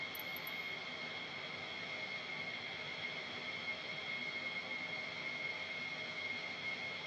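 An F-15 jet taxiing toward the end of a runway in Flight Simulator 2020, a steady, even engine whine and roar held throughout with no change in level and no talking.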